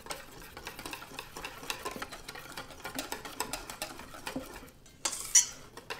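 A seasoned beer batter with salt and black pepper being stirred in a bowl, quick repeated clinks and scrapes of utensil against the bowl, close and fairly quiet, with a brighter knock near the end.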